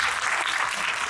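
An audience at a railway vehicle technology seminar claps to welcome a panelist, a brief burst of dense, even applause from many hands filling the hall.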